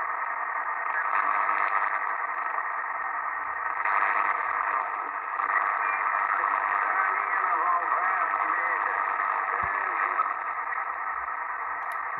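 A Sony ICF-2001D radio, repaired and modified, picks up noisy shortwave reception: a steady, band-limited hiss and static hum that continues throughout at moderate level, with slight swells.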